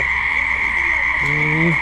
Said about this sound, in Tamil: இது வந்து பெரிய தவளை இது விற்கிறாங்க